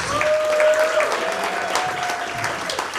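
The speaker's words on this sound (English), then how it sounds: "Give it up, everybody, for Max Faust." A comedy club audience applauds an amateur contestant coming to the stage, a full, close round of clapping with a thin tonal whine running through it and no voices on top.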